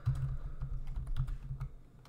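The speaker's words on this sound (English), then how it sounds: "I'm going to press alt and enter on my keyboard again" Typing on a computer keyboard, a quick, close run of soft key clicks in an uneven rhythm, with no voice over it.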